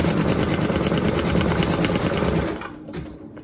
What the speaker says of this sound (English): press go, and that should stitch out that placement stitch